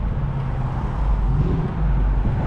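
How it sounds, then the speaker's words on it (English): BMW M340 fitted with a catless downpipe, its exhaust a loud, close, continuous low drone through downshifts, with no talking. "And them downshifts loud as shit."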